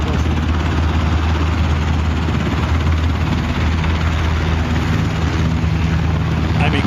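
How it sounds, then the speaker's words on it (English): Black Hawk helicopters fly in and out of Washington, D.C., with a loud, continuous rotor and engine rumble holding steady throughout, under faint talk. "Blackhawks were seen flying in and out of D.C."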